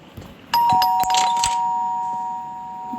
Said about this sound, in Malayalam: ആരാ കോളിംഗ് ബെൽ അടിച്ചേ?